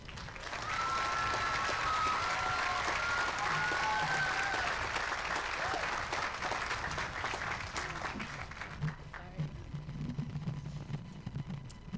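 A commencement audience claps to welcome a student speaker to the podium, dense sustained applause from a large crowd that gradually thins out toward the end.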